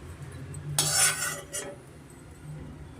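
Fried cashews are scraped out of a pan into a bowl or plate, a close burst of metal-on-metal scraping and rattling lasting about a second, followed by a softer scrape and quiet kitchen background.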